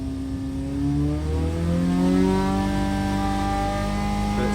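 An in-car engine revs during an ignition advance test, rising steadily in pitch as it climbs toward six thousand rpm, loud and continuous with no talking.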